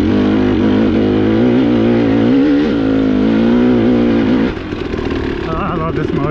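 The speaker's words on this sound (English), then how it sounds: "Oh, I love this motor." A dirt bike motor revs steadily and loudly up close, its pitch rising and wavering for several seconds before dropping to a lower idle-like drone, with a voice briefly audible over it.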